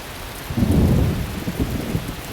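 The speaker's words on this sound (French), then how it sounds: "Il y a eu un petit coup de tonnerre." A low rumble of thunder rolls in over steady rainfall, swelling then fading while the rain keeps falling.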